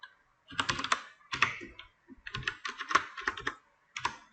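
Bursts of keyboard typing, close and moderately quiet, with short clusters of rapid key clicks separated by brief pauses, no talking.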